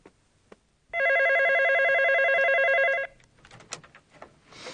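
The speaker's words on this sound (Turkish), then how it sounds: "Telefon çalıyor." A telephone bell rings in one steady, loud burst of about two seconds, followed by quiet room noise and a few faint knocks. No one speaks over it.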